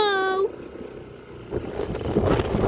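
Wind buffets the microphone at a windmill site in Pililla, Rizal, a low rumbling roar that starts after a brief tonal sound and swells into stronger gusts toward the end.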